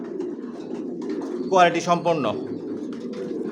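Adult racing pigeons, vaccinated, leg-tagged stock, coo softly through a steady low murmur while someone talks over them; a brief louder burst of cooing rises in the middle before settling back.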